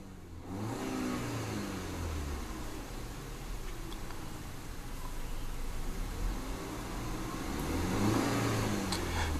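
A 2014 Audi Allroad 2.0T held steadily against its 4,000 RPM stationary rev limiter, giving a loud, sustained engine drone with a low burble that rises slightly near the end.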